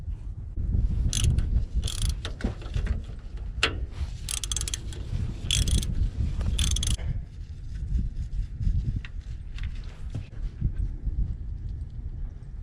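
A hand ratchet works a nut off a 1992 Ford F-150 pickup, giving repeated bursts of quick metallic clicking with short pauses between strokes, close up over low background noise.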